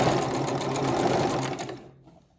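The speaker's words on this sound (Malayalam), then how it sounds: "അടിക്കുന്നത് നോക്കാം നമുക്ക്." A sewing machine hums rapidly as it stitches a sharara lining, a continuous close run of needle strokes that slows and stops near the end.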